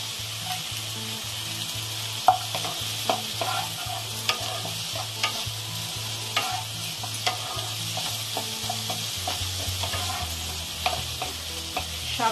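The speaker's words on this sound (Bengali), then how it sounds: "একসাথে সবকিছু ভালোভাবে নাড়াচাড়া করে নেব। পেঁয়াজটাও দিয়ে দিলাম।" Onion and vegetables for Kolkata street-style chicken soup sizzle steadily in a pan while a utensil stirs them in a regular scraping rhythm, close and continuous, with no talk.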